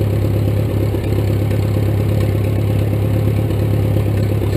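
A 1941 Case SC tractor engine running steadily after sitting since December, a loud continuous low throb with even clatter, heard close with no voices.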